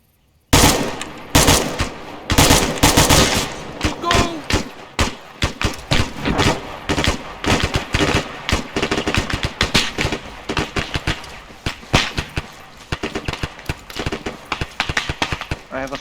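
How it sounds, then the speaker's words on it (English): Dense rapid gunfire from a military video game, bursts of automatic shots crackling continuously and loud throughout, with voices talking over the firing. "Blue, you will provide cover fire for Red while they are moving."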